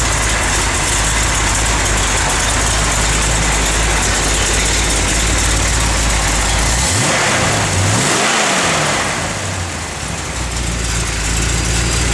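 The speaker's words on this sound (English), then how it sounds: "Listen to this bad boy." A 1969 Dodge Dart Swinger V8 running on pump gas, loud and close: a heavy rumbling idle, then a sharp rev that climbs and drops back before settling into idle again, no talk over it.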